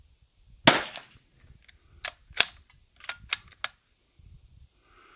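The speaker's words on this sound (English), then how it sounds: "First time pulling the trigger." A Zermatt Arms RimX rifle fires with one sharp, loud crack close by. Several lighter clicks and knocks from handling the action follow.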